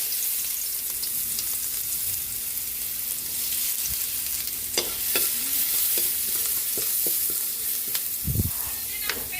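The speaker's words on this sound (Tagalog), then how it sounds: "Magigisa na po tayo." Garlic sizzles in hot oil in a pan, a steady close frying hiss with occasional scrapes and stirring clinks of a utensil.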